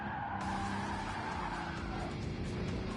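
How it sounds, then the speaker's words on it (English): Tires squeal steadily as a four-wheel drive car drifts in an online time trial of a racing video game, a continuous loud skid over a droning engine with no talking. "Not often you get to drift a four-wheel drive car."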